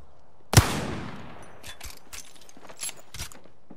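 A single loud, close crack from a G7 Scout rifle in a video game rings out with a long echoing tail, followed by scattered lighter clicks and thuds of movement.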